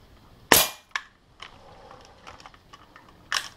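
Air rifle firing pellets at a target 8 metres away: a sharp, loud crack near the start, a smaller click soon after, scattered faint ticks and handling noises, then another crack at the end.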